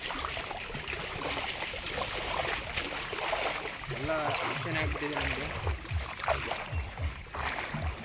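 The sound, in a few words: river water flowing, Malaprabha river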